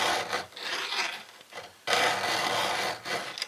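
A hand file is drawn across a saw chain tooth to sharpen it, giving several close, rhythmic rasping strokes with brief pauses between them.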